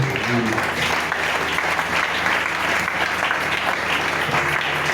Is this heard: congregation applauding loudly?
yes